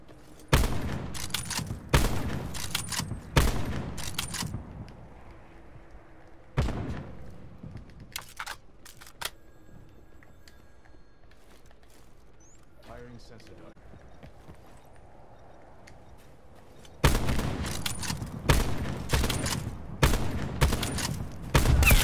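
Sniper rifle shots ring out in a one-versus-one video game match, sharp bursts of gunfire coming in clusters at the start and end with a quieter stretch between, with people talking over parts of it.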